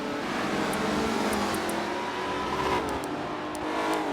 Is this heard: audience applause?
no